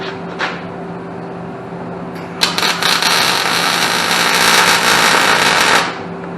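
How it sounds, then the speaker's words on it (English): MIG welding a corner plate underneath an A-arm for an Endeavor trike conversion on a Honda GL1800 Goldwing: a steady, loud crackling buzz runs for about three and a half seconds after a short spark, with a faint hum beneath. "Then I go underneath here and I weld this corner."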